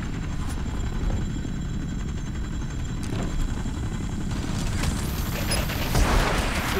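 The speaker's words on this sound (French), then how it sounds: "Alors attention, l'hélico il est juste là." A helicopter's heavy rotor roar runs steadily throughout in the PC shooter BlackSite: Area 51, with sharp bursts of gunfire crackling over it and a brief loud swell near the end.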